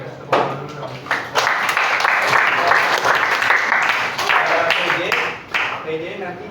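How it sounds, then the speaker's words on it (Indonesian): Classroom of high school students breaking into sustained applause, many hands clapping loudly together for several seconds, with some voices mixed in. "Oke, kasih tepuk tangan dulu dong."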